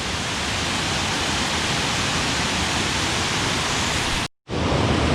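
Constant heavy rush of falling water at Kroeng Krawia waterfall, a thick steady roar that cuts out for a split second near the end before resuming.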